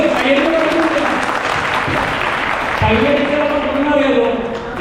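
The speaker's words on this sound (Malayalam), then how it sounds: "നല്ലതായിട്ട് കൈയടി" An audience at a skill day event claps for a singer, a dense steady round of applause with voices talking over it throughout.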